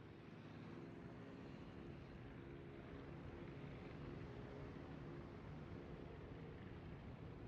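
Aircraft squadron launching from the carrier Hakuryu in World of Warships, a steady loud droning roar of propeller aircraft engines that holds at even volume for the whole stretch, with no voices.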